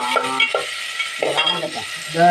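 Tomatoes sautéed and stirred in a pan, cooking for an eggplant curry: a soft sizzle runs throughout, with several scraping strokes of a stirring utensil coming close together.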